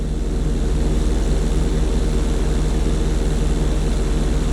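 Propeller plane flying in Grand Theft Auto 5: a loud, continuous engine drone with an even pulsing throb that stays close throughout.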